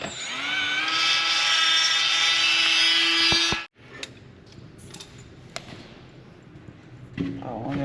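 A power grinder whines loudly and steadily for about three and a half seconds as it grinds a lip off a metal pin during a heavy machinery repair. It then cuts off abruptly, leaving quiet clanks and a brief burst of talk.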